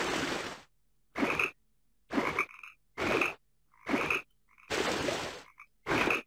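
Repeated loud, raspy frog croaks in the video game Tasty Blue come in short bursts with brief silent gaps, about seven calls, close and clear with no talking.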